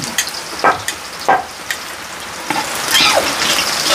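Minced garlic frying in a pan for sopas: sharp sizzling crackles and pops, a few distinct bursts early then a steadier hiss building toward the end, close up with no talking.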